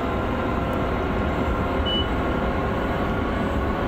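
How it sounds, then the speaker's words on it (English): In the Train Sim World game on the Long Island Rail Road in a blizzard, a train rumbles by overhead as a dense, continuous low roar of wheels and carriages over the cab's own running noise. "Train going over the top of us."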